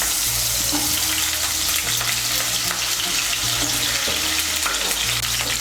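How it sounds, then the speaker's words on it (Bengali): Potato pieces fry in hot white oil in a wok, a dense continuous sizzle with occasional stirring scrapes, close and loud with no talk. "তেলটা গরম হয়ে গিয়েছে। এর মধ্যে আমি দিয়ে দিচ্ছি আলুর টুকরোগুলো।"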